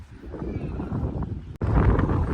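Strong wind buffets the microphone at the KRS backwater, a steady loud rush that briefly cuts out near the end before returning harder, with a voice faintly underneath.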